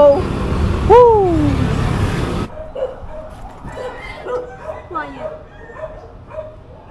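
A dog barks and whimpers nearby in a street while a delivery rider travels, several short yips and bark bursts at the start and later, with people talking at intervals.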